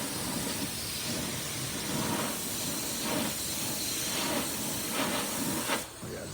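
A spray gun lays down coats of paint in steady hissing bursts, several spray passes pulsing at a regular rhythm close by, then cutting off near the end.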